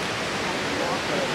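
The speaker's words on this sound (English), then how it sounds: "So now we are walking away from the waterfall" Broadband rushing roar of the waterfall at Falls Park on the Reedy in Greenville, steady and loud with no breaks, heard from a nearby bridge.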